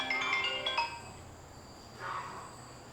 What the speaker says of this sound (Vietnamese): Mẹ đợi con tí, con nghe điện thoại.